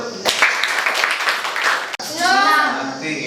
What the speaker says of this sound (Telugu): క్లాప్స్ అందరూ